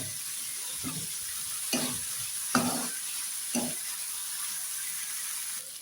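Vegetables sizzle steadily in a hot pan while a spoon stirs them, four distinct scraping strokes rising over the constant frying hiss, close and moderately quiet.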